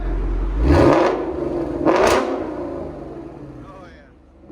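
A 2015-2023 Ford Mustang GT 5.0L V8 with an aftermarket cat-back exhaust revs twice in quick succession, each blip rising to a loud roar then falling back to a lower rumbling idle, close up.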